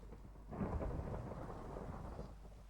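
A thunderstorm in a horror survival video game, with a heavy rolling thunder rumble swelling after half a second over steady rain, loud and continuous, with no voices.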